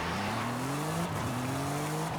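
An Audi RS5 drifts in Forza Horizon, its engine droning steadily with rising and falling pitch and a faint tire-squeal hiss underneath, with no talk.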